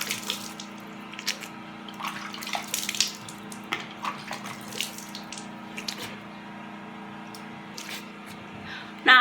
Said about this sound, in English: Now you have to scrub as you wash, okay, because the sugar is just going to sit on your skin.